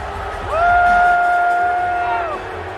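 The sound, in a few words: wrestling crowd at Forbidden Door cheering and booing, played recording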